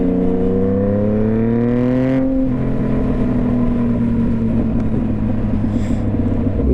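A motorcycle engine revs up loud and close, its pitch climbing steadily before dropping back to a sustained rumbling drone that continues to the end.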